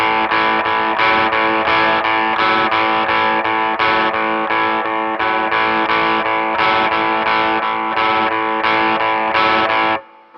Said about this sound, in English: the 1st guitar part is essentially just a shuffle figure